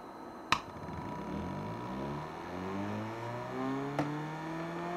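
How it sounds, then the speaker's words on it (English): A magnetic wheel on a Zero Lenz dynamo spins up toward full speed with a steady whir whose pitch rises gradually, marked by two sharp clicks near the start and end. "magnetic wheel, bring it back up to full speed"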